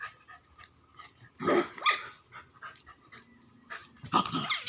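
A blue-eyed puppy barks in a few sharp bursts, with some growling and panting mixed in, close to the listener at moderate volume with no talk over it.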